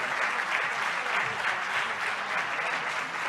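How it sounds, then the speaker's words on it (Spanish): Steady crowd applause at a community hall show, dense and continuous at moderate loudness, with no speech over it. "Un aplauso a Luna, a nuestro técnico"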